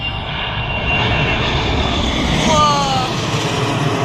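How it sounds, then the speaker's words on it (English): An American Eagle ERJ-145 regional jet takes off at Erie International Airport, a loud steady engine roar with a rising whine, close and powerful throughout, while a voice speaks faintly beneath it. "the plane is now currently about to take off"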